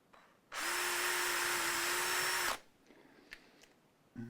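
Power drill boring into a guitar body during assembly of a partscaster, a loud steady whine lasting about two seconds, then a few faint clicks and handling noises.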